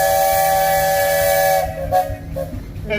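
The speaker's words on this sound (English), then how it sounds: "You got a whistle demo." A loud, sustained steam whistle blasts at an antique tractor and machinery show, a steady harmonic tone with hiss that cuts off after about a second and a half, leaving bursts of escaping steam.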